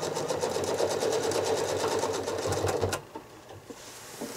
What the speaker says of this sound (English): Let's fill this up with just a few more little lines of quilting.